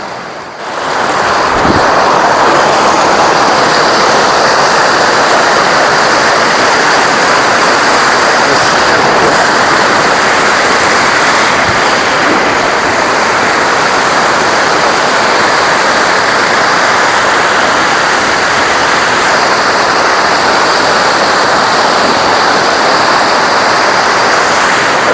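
A swollen mountain river rushes past in a remote village, its loud, steady roar of churning water filling the whole stretch without pause, with no voices over it.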